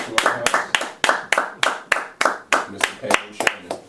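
About a dozen sharp, evenly spaced hand claps ring out close by at a brisk steady pace, sounding like one or a few people clapping rather than a large audience.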